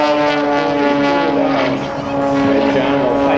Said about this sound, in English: Now down at Air Show Right, John rolls inverted those negative G's again.